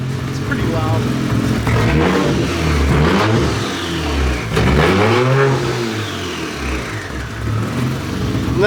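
A Toyota Supra Mk3 with a 1JZ engine revs loud and close, the engine note rising and falling over and over, with people talking over it.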